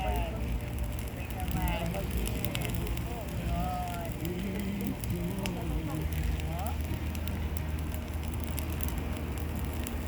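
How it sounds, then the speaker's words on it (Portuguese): A campfire at a campsite, lit for roasting marshmallows, gives a constant rough crackling roar, with voices audible around it. "Rayana, pegou fogo"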